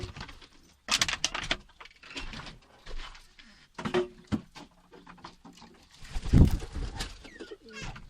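Newly acquired pigeons coo in soft, intermittent bursts nearby, with occasional wing flutters and light mechanical clatter between calls, no talking.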